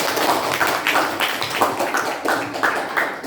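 A small group of students claps in a classroom, with a few sharp, fairly even claps close by and nobody speaking over them.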